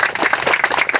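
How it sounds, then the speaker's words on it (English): A crowd claps at a business groundbreaking ceremony, a brief burst of steady, fairly loud applause from many hands. "Yes, round of applause."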